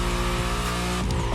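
Powerful Mercedes car engine in The Crew Motorfest racing game, a steady loud droning hum with rich harmonics and a brief surge near the end, with no talk.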